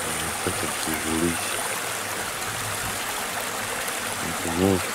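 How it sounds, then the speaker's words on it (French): A small river in the Cévennes, Massif de l'Aigoual, flows with a steady broadband rush throughout, close by, while brief voices talk over it near the start and end. "toujours cette petite rivière"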